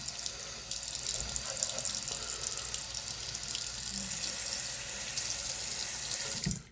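Water running and splashing onto a Naniwa Snow White 8K sharpening stone, a steady close trickle like a tap filling a sink, continuous throughout with a brief louder splash near the end.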